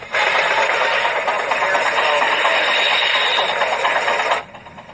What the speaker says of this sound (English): That's a sawmill it's supposed to be.